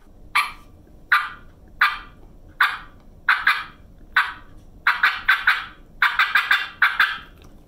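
A series of sharp turkey clucks imitated on a mouth call, spaced out at first, then coming in quicker clustered bursts of purring.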